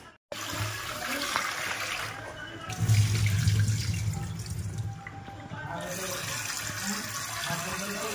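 Tap water runs steadily over prawns being washed in a kitchen sink, with splashing and a louder gush midway, close and continuous, while someone talks over it.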